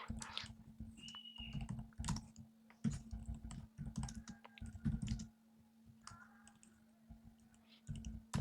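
Python code typed on a computer keyboard: quick clusters of crisp key clicks and taps with short gaps, close up and quiet, against a faint steady hum.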